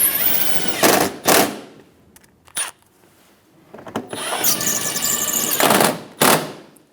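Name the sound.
power driver installing screws in Ford Expedition fender liner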